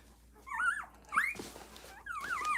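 Hungry newborn puppies squeak and whimper in three high, wavering bursts, close and fairly loud, with short quiet gaps between them.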